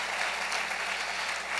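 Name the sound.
congregation applause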